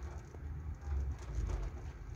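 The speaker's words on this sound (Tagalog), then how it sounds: "kalakas ng ulan ayan oh kita mo naman yung tamar nahagupit ng malakas na ulan" Steady rain pours down on date palms in Saudi Arabia in a quiet, dense hiss, with a low rumbling underneath that swells in the middle.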